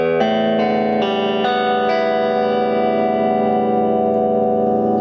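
An electric guitar with a Lancaster pickup kit installed in a Fender, overdrive on, plays a quick run of distorted notes, then lets a thick, buzzing chord ring out and slowly sustain.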